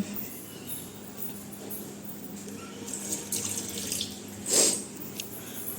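Water running from a kitchen tap while something is rinsed under it, a steady soft stream with a brief louder splash near the end, heard alone at low level.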